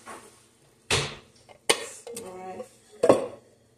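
Metal utensils scrape and clank against a pan in a few separate loud strikes and stirring scrapes while homemade creamy chicken tortilla soup is mixed, heard close up with pauses between.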